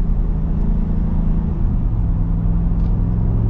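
A Ford V8 pickup truck engine, 7.3L or 6.8L, accelerates with a loud, steady low rumble heard from inside the cab, the tone shifting slightly midway as it pulls.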